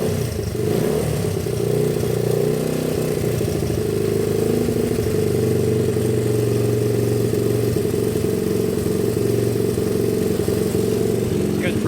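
A motorcycle engine running at a steady idle after adjustment, a loud close mechanical drone with a slight rev at the start and faint clatter, while people talk nearby.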